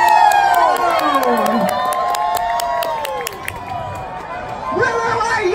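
A crowd cheers and shouts at a zoo running event while a yellow Labrador runs a 100-metre track, excited voices and whoops rising and falling over several seconds, with a few children's shouts mixed in.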